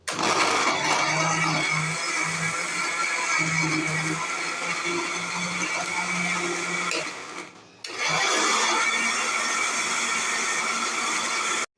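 A blender grinds green chillies into a paste in a jug still holding ginger-garlic residue, a loud, steady close-up whir that dips briefly near the end before roaring on again.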